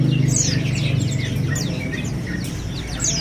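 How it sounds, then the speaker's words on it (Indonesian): Zebra doves, the Bali perkutut kind, call amid a busy bird kiosk, with a steady low background hum and many overlapping chirps and tweets from other caged songbirds. "Di depan kita ini ada burung perkutut Bali ya."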